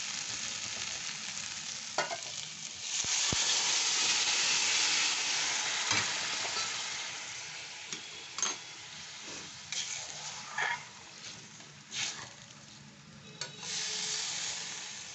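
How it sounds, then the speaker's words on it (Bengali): Hot water is poured into khichuri cooking in a pot after the gas is turned off, giving a loud, hissing sizzle with scattered stirring clatters that gradually settle, with no talking. "এইখানে যে বাটিতে গরম জলটা করেছি এইটা দিয়ে দিচ্ছি"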